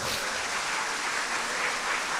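An audience at a pastoral conference applauds steadily, a soft, even patter of many hands heard from a distance with no speech on top.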